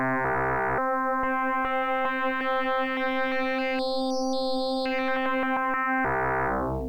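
Cirrus 2 synthesizer playing FM ratio tones: a sustained buzzy, harmonically rich drone whose overtones shift and brighten as the ratio changes, with a steady rhythmic ticking pulse running through it.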